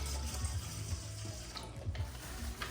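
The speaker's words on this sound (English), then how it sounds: "Put a little bit more water in it." Water runs from a tap into a pot of rice, a faint continuous splashing and trickle with small clinks, no talking.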